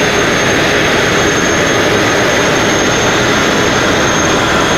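A sandblaster blasts a boat hull under heavy hose pressure, producing a loud, unbroken roaring hiss that runs throughout at constant strength.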